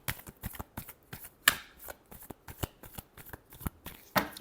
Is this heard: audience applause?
no